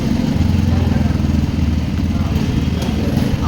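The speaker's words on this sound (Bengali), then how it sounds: "তো ওঠার পর তো এখন স্টার্ট দিলাম বাইক" Yamaha FZ Fi motorcycle idling just after being started, a steady low engine rumble with a fast regular pulse, close and loud from start to finish.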